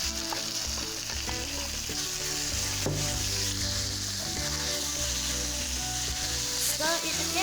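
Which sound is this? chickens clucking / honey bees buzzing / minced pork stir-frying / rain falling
minced pork stir-frying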